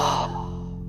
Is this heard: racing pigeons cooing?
no